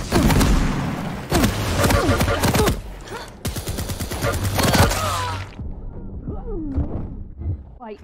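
Rapid gunfire from a Quake arena duel: about five seconds of dense, loud, overlapping shots and blasts, then the shooting drops away to quieter game effects and whooshing sounds, with some voice underneath.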